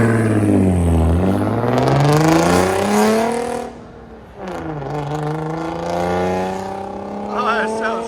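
A 2001 Audi S4 with a 2.7L V6, catalytic converters removed and straight-piped, revs loudly and rises and falls in pitch twice, droning raspy and close with a short dip in the middle.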